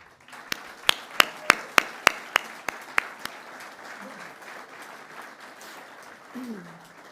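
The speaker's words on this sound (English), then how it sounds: "So let's give them a round of applause, and please let them stay seated and enjoy it." Applause at a Del Mar special operations forces support event, for the families of special operations forces: a run of about nine sharp, evenly spaced claps close by, then quieter room murmur with brief voices.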